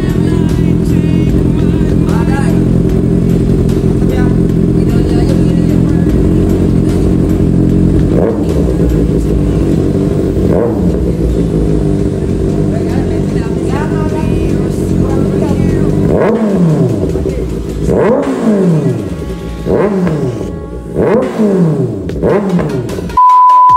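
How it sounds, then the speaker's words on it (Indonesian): A Kawasaki ZX6R motorcycle engine idles loudly and close, then is revved repeatedly in sharp bursts through a throaty exhaust, with voices faintly under it. "Cek sound knalpot, guys"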